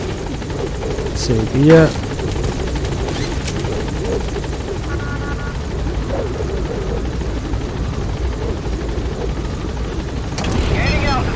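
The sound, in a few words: Pequod helicopter at landing zone in Metal Gear Solid V video game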